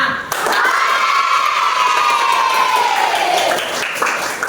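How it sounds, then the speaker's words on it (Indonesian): A classroom of children clap hard and shout together in one loud, sustained burst of cheering that swells and holds for several seconds before easing off. "Kalau kalian senang, silakan tepuk tangan sambil teriak kore sekuat-kuatnya."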